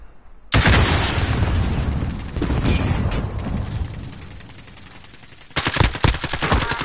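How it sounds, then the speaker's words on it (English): A rocket launches in a multiplayer shooter game, loud blasts and rapid bursts of gunfire crackling in two heavy clusters with a quieter stretch between. "Launching rocket."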